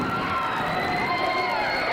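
Arena crowd at a 1984 pro wrestling match roaring and cheering as Brickhouse Brown attacks Koloff, a continuous, dense wall of voices with shrill shouts rising over it.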